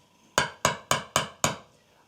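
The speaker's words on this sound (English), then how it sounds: "And then they had to get their hammer." Five evenly spaced hammer blows, sharp and loud, each ringing out briefly before the next strike.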